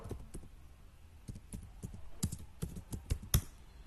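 Text is typed into an Excel spreadsheet on a computer keyboard, a short run of light, irregular key clicks over a faint room hush, close and soft.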